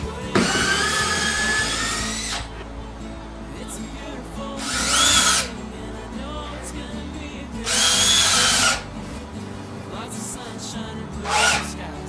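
A power drill whines in several bursts while boring a hole for a lamp, revving up sharply for a second or two each time, with quieter pauses between.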